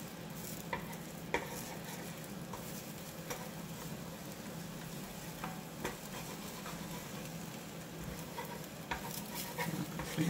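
Egg and melting cheese sizzle softly in a pan, with light stirring and scraping taps breaking through a steady low crackle over about ten seconds.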